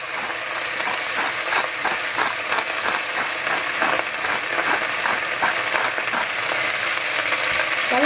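Chard sizzling and crackling in cooking oil in a pan, a steady dense frying hiss with quick pops running close and fairly loud throughout.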